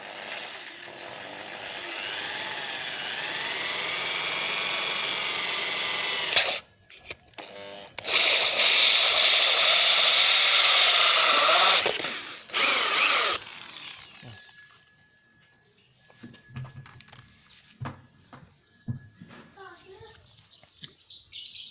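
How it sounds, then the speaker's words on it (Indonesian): A power drill whirs loudly in two long bursts, its pitch rising and falling, followed by quieter clicks and handling noises. "Harap hati-hati ya teman-teman ketika mengebor seperti ini."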